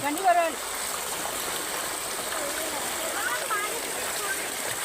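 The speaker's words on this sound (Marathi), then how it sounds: "हे बघा कसं मस्त पाणी बघा," Unlimited water streams through a rice field in a constant, close rushing flow, with a brief voice near the start.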